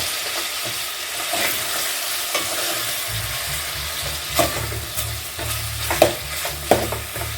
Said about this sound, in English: Now I'll be adding my onion. It's a bit too noisy, but it's because of the oil.